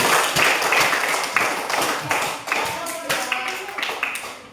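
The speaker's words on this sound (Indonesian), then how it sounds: "tepuk tangan dulu untuk kelompok" Classroom applause for a student group after its discussion presentation: dense, steady clapping from many hands throughout, fairly close, with voices mixed in.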